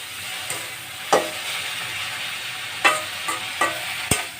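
Garlic and onion frying in a pan, a steady loud sizzle with intermittent scraping knocks from stirring, close up.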